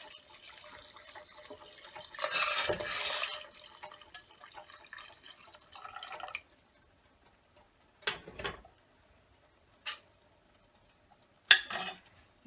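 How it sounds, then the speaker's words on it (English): Water pours into a metal cooking pot for sev usal in a home kitchen, a bright splashing rush lasting a few seconds, followed by scattered clinks of utensils and pot. "So I take water in a same pot and I'm going to add as needed."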